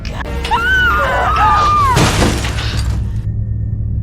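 A computer monitor is smashed against a woman's head in a horror film: a loud close crash and glass-like shatter burst out amid a strained high cry, then debris rattles and fades into quiet.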